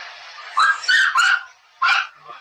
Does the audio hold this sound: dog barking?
yes